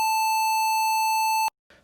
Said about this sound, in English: On the Numbiano, the A4 is located here, and it sounds like this.